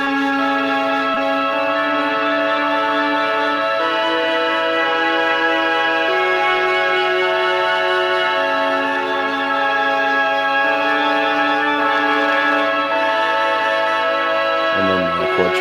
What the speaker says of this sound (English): It's a flute ensemble this time instead of just a flute.